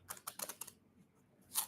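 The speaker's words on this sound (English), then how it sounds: "I'm going to shuffle this once." A tarot deck is shuffled once, a quick burst of papery card riffles and taps followed by a short pause and a final crisp flick.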